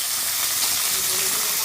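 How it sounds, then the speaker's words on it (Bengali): Washed Gobindobhog rice fries in hot oil with a steady, close hiss and sizzle that runs unbroken throughout, with no talking over it. "চালটা ধুয়ে রেখেছি, এবার ওটা তেলে ভাজবো।"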